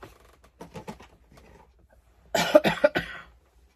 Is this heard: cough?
yes